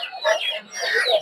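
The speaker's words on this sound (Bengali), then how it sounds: "এই জায়গায় মুরগি বেশি পাওয়া যায় দেশি" Chickens clucking at a village livestock market, a short close burst of excited clucks with market noise around them.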